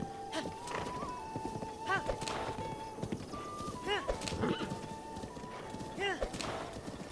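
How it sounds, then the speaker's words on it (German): A horse trots with rhythmic clip-clop hoofbeats and gives a couple of whinnies in Zelda: Breath of the Wild, set against game music, while someone talks over it. "Wo ist ein Pferd? Da ist ein Pferd."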